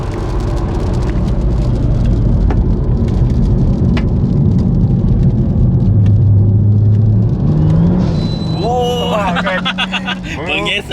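Steady rain hisses on a wet race track in a racing video game while a powerful rear-wheel-drive turbo Kancil's engine drones underneath, with the engine pitch climbing near the end and a voice talking over it.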